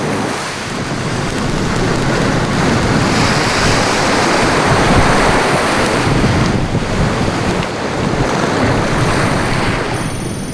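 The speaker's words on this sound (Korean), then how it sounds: "늦은 오후가 되면서 탑동 방파제는 수직으로 치솟아 오르는 파도로 뒤덮였다" Huge typhoon waves driven by gale winds crash and surge over the Tapdong breakwater, a loud continuous roar with buffeting wind noise and swelling pulses of spray.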